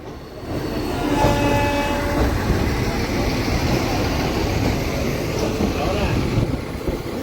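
A DEMU train on a single line track between Kurnool and Guntakal makes a loud, continuous rumble, with a brief horn-like tone early on and steady rolling noise throughout.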